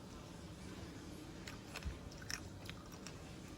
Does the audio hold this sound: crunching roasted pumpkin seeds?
yes